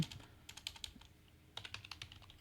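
Light, quick keystrokes on a computer keyboard come in two short bursts separated by a brief pause, close and fairly quiet.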